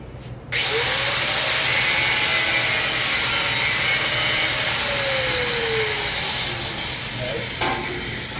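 A power tool grinds steadily through a steel car bumper, a loud continuous harsh rasp with a shifting whine, running for several seconds.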